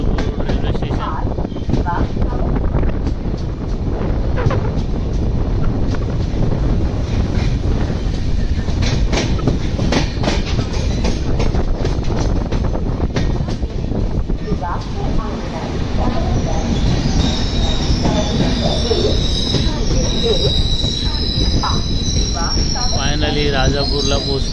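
Konkan Railway train at Rajapur Road station, rolling wheels and carriage rumble with clattering and rising metallic squeals toward the end, loud and continuous throughout.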